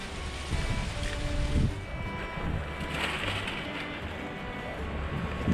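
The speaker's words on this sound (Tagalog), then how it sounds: "napakalakas ng hangin" Strong gusts batter the microphone at an outdoor hide during a wild dove hunt, producing a low, rumbling, buffeting roar that swells and eases continuously with no speech.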